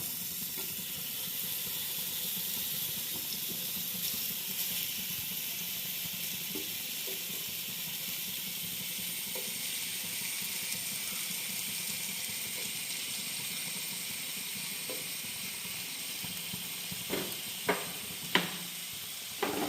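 Vatta fish frying in hot oil, a steady soft sizzle that continues throughout, with a few sharp clicks and clatters near the end.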